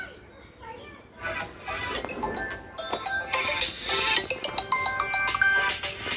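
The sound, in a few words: phone ringing unanswered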